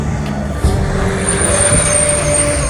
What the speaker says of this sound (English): hold up, too much traffic